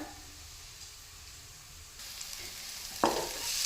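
Tadka masala fries in a pan with a soft, steady sizzle that grows louder and hissier partway through, then a sharper burst of spitting near the end; close, with no speech.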